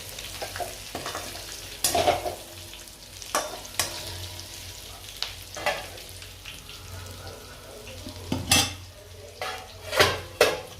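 A vegetable sizzles and fries in a pan at home while a utensil stirs and turns it, with repeated sharp scrapes and clinks against the pan over a steady frying hiss and no voices.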